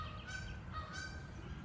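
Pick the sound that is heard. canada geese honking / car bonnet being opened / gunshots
canada geese honking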